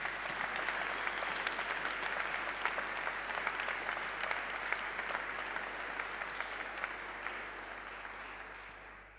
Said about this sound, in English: For all of them, please, a big applause.